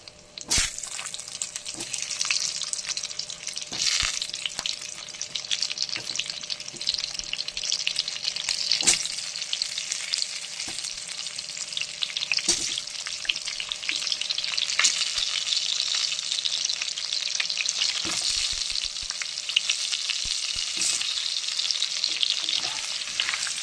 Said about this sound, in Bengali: আলু আমি একে একে ভেজে নেব।